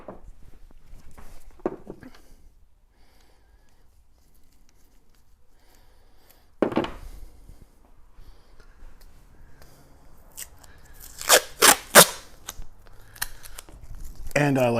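Tape is pulled off and pressed down onto a DIY boat keel guard, with sparse, short rasping rips and crackles that cluster toward the end, while a voice speaks quietly at times.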